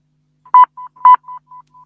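Telephone dialing tones on a radio call-in line: six short beeps in quick succession, two louder than the rest, clean and isolated against silence.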